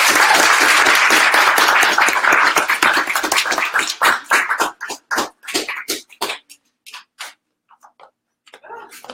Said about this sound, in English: If you could please give her a round of applause